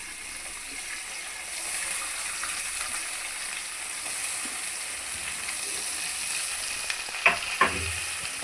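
Onions fried in a pan after asafoetida powder, giving a steady broadband sizzle throughout with a couple of brief clatters near the end, close and alone.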